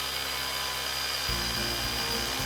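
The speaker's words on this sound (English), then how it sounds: "you can easily grab our drilling bit and drill a hole" A drill bit bores a hole into a resin piece, a steady close whine that drops to a lower, heavier grind partway through, with no talking.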